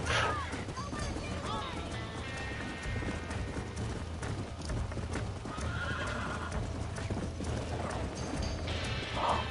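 A stallion galloping in the video game Red Dead Redemption, with fast drumming hooves and a whinny over busy game ambience, and a voice talking partway through.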